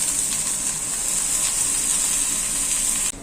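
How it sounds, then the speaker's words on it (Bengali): Onions and garlic frying in a pan give a loud, steady sizzle with a sharp hiss once water is poured in, cutting off abruptly near the end; no talking. "এখন পানি দিয়ে দেব।"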